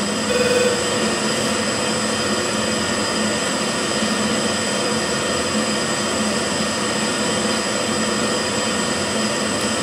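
An F-14 jet engine in a flight simulator drones steadily with afterburner off, a constant loud broadband roar laced with whining tones and no talking.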